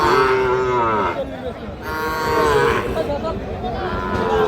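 A young Sahiwal bull calf at a busy cattle market lets out several loud, long moos close by, with people talking under and between the calls.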